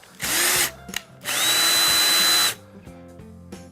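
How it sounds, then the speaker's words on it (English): An electric drill twists wire for model railroad trees, whirring in two bursts, a short one then a longer one, with clicks and light handling noises between and after. "And then I'm going to take an electric drill."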